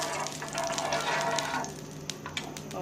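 Burger bun half sizzling in ghee on a hot tava griddle, a steady close frying hiss with a few soft crackles and pops, no talking.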